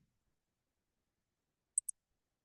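A computer mouse gives two quick, crisp clicks in near silence, faint and close together.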